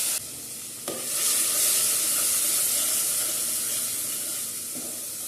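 Tomatoes frying in hot oil for a Gujarati sweet-and-sour dal, a steady close sizzle and hiss that swells after a brief stir and holds loud and even, with no voices.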